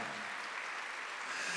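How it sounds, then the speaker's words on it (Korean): Congregation applauding during a Korean church Sunday worship service, a steady wash of many hands clapping at moderate distance with no talk over it. "박수를 하세요."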